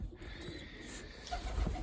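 Young pigeons coo softly in a loft, a low, faint murmur of repeated calls running steadily without any voices.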